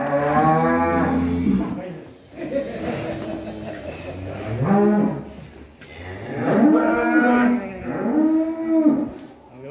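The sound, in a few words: giant cow mooing on a farm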